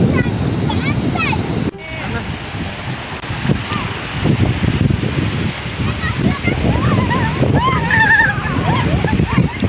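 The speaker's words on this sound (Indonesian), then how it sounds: "Pantai." Surf and breeze at Tuban beach in East Java, a steady wash of waves rolling in under bursts of wind, with people chatting and calling out nearby throughout.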